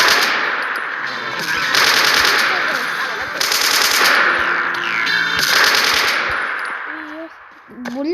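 Rapid bursts of automatic gunfire rattle loudly and almost continuously through a bot match video game, with the shots fading near the end.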